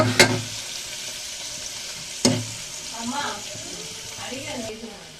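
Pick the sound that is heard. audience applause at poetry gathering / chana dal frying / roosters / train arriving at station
chana dal frying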